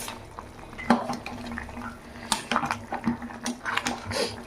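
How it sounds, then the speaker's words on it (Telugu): A ladle stirs bottle gourd curry in a pot, giving scattered metallic scrapes and clinks over a low background, with several louder knocks at uneven intervals. "ఇదిగో కూర మళ్ళీ ఒకసారి గరిటె పెట్టి తిప్పుకుందాం"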